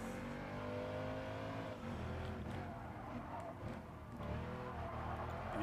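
Racing car engines in Gran Turismo Sport drone and rev continuously while the car fights to stay on the track. The pitch rises and falls through the gears with no break.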